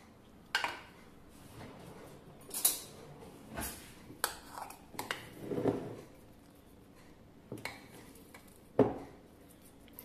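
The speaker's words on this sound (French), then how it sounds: "Là, je vais dresser en assiette. Prendre une plus grosse cuillère." A large spoon scraping and knocking against a bowl and plate while plating acuka meze, a series of separate clinks and scrapes spaced irregularly, close and clear in a quiet room.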